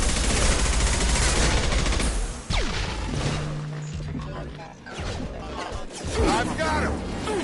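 Gunfire in Mass Effect combat against hostile mechs: a loud burst of rapid automatic shots that fades partway through, then returns with scattered shots and impacts, with speech mixed in.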